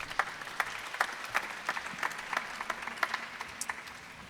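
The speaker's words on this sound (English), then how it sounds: "Give them a round of applause." Applause from a modest crowd at a gubernatorial candidates forum, scattered claps blending into a light, steady patter, heard at a moderate distance.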